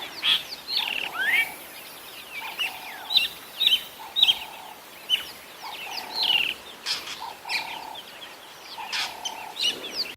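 A drongo mobbing a pale-morph Wahlberg's eagle gives repeated loud, harsh chirps and whistled calls in irregular bursts, close and piercing over a quiet savanna background.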